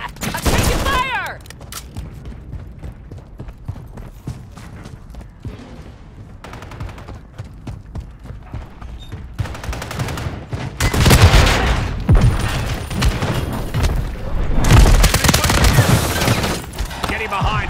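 Gunfire and booms in a Call of Duty Modern Warfare III deathmatch, with scattered shots building into heavy loud bursts of automatic fire and explosions, and voices shouting amid the action.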